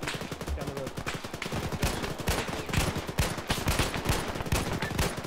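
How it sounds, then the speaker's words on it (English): Friendly forces open fire in a military shooter game, with rapid, overlapping bursts of rifle and machine-gun fire cracking close and steady throughout, under faint radio chatter. "I think friendlies might be shooting on power and me right now"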